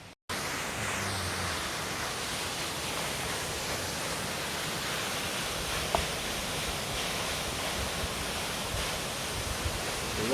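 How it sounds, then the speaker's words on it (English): A waterfall near Warwick, Australia, rushing as a steady, loud broadband roar that fills the whole stretch without a break, with no voices over it. "Okay, there's your waterfall."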